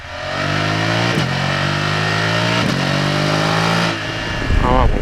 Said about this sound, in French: dès qu'on monte dans les tours, le bicylindre, il explose